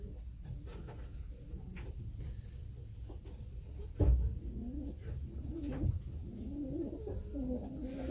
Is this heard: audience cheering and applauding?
no